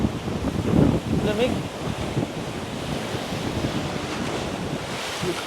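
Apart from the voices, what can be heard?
ocean waves and wind at Boracay beach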